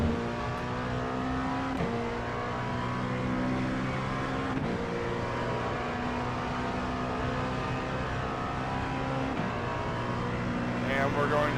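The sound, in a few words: LMP2 race car engine and braking in iRacing video game, Sebring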